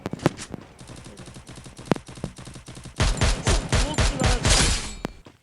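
Gunfire in the mobile shooter Free Fire: scattered single shots early on, then from about three seconds a loud run of rapid automatic bursts fired close by, with no talking.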